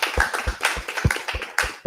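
Audience applause for grandparents at an event, a short burst of brisk irregular clapping, fairly close and lively, no talk.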